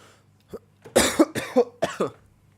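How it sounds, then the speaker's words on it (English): A single person coughs several times in close succession, loud and near, with short gaps between the harsh bursts and a faint low hum behind them. "I was coughing."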